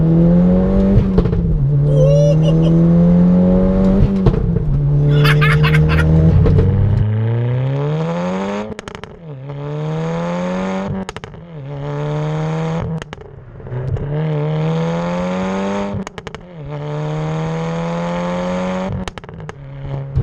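Loud exhaust of an Audi 8P S3 roaring as the engine revs up repeatedly in second gear through rising pitches, with brief dips between pulls, close and aggressive.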